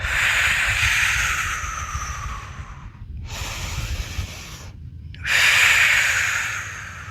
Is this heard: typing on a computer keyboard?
no